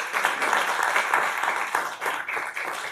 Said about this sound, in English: Ladies and gentlemen, another round of applause for those great employees.